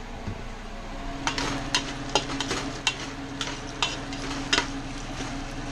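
Garlic, onion and ginger sauté in a pan, giving a steady close sizzle punctuated by sharp scrapes and taps of a spatula stirring against the pan.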